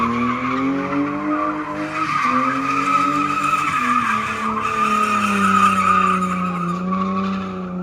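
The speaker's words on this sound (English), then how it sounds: "Listen to that thing bog down." Supercharged all-wheel-drive daily car with roughly 700 hp bogging down under wheelspin, engine droning loudly with strained, wavering pitch and tire squeal throughout, close and continuous.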